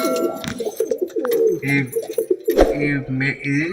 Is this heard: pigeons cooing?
yes